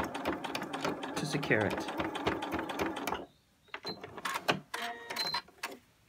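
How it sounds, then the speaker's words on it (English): Domestic sewing machine running a short reverse stitch at the end of a cord seam on a scrubs bag, a rapid mechanical chatter of bursts broken by pauses, with someone talking over it. "I'm going to do a small reverse stitch at the end"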